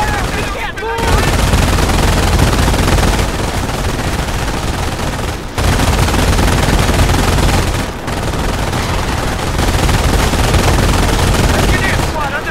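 Sustained loud gunfire and machine-gun bursts fill a battle in the video game Company of Heroes, continuous dense firing with brief lulls, while voices shout over the combat.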